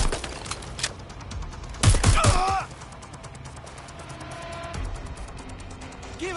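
Gunfire in the Watch Dogs Legion video game: a tight burst of several loud shots near the two-second mark, set against a low rumbling game backdrop, with faint voices and game sounds under and around it.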